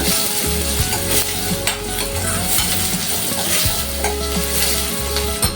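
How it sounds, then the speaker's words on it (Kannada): Onions frying in a pan for capsicum palya, a steady close sizzle with occasional stirring scrapes. "ಈರುಳ್ಳಿನ ಒಂದು ಸ್ವಲ್ಪ ಫ್ರೈ ಬಿಡೋಣ ಅದು ಸ್ವಲ್ಪ ಫ್ರೈ ಆಗ್ತಾ ಇದೆ"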